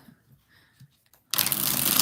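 Tarot cards are riffled and shuffled in a loud, dense burst of rapid flicking that starts abruptly after a stretch of faint, near-silent handling noises.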